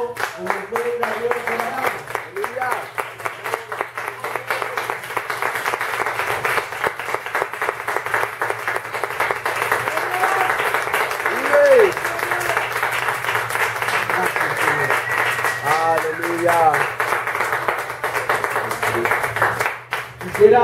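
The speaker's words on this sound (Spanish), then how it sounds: "si puedes darle un fuerte aplauso" A standing church congregation at a Spanish-language morning service claps in steady rhythm for about twenty seconds, with a sung or spoken voice over the clapping.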